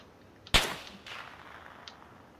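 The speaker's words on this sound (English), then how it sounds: "Oh, they're still shooting at me." Gunfire in PlayerUnknown's Battlegrounds: one loud, sharp shot close by with a short ringing tail, then fainter distant cracks.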